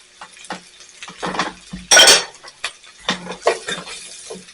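Sliced mushrooms, about 5 or 6 ounces, tipped into a pan of mostly translucent onions for Salisbury steak, giving a short burst of clattering and scraping near the mic amid scattered kitchen clinks and utensil knocks.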